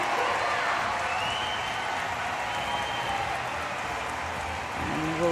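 A crowd claps at a wheelchair para table tennis quarterfinal in men's singles class 4: steady, moderately distant applause sustained throughout, with a commentator talking over it.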